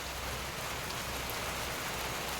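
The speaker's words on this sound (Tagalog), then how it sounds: "Mainit na umuulan." Rain falls on a hot day in Tacloban City, a steady, dense hiss that stays even and unbroken throughout, with no voices.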